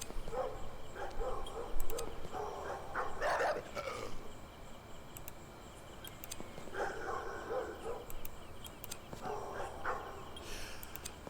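Feral dogs barking in the video game The Myth Seekers 2, several bursts of barking at a moderate distance over a steady ambient game background, with no speech.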